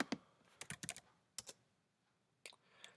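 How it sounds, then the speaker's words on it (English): Keys clatter on a Mac computer keyboard as a terminal command goes in: a few quick bursts of close, crisp taps broken by short pauses, with no voice. "Type in sudo bash and type in your password."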